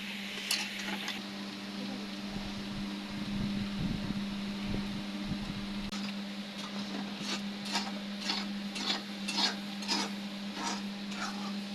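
Bata fish being mixed and cooked in a pan, with a steady electrical hum throughout and repeated scraping and clinking of a utensil against the pan that grows busier toward the end.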